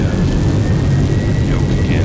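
Steady loud roar of jet engine thrust reversers after touchdown in X-Plane, a broad, constant rumble throughout with a faint whining tone riding on top.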